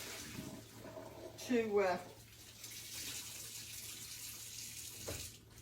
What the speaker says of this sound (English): I'm going to rinse my hands real quick. Rinse my cloth out